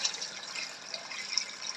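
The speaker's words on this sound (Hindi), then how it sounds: "अब इसमें हम पानी डाल लेंगे" A steady, splashing stream of water is poured into a pot of aloo gosht curry, continuous and close with no voices.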